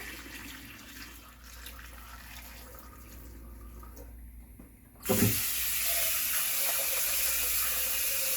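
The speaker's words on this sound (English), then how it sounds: "So I'm going to drain off the water." Quiet kitchen hum gives way to a sudden loud rush of boiling water being drained from a cooking pot, a steady splashing stream that continues to the end.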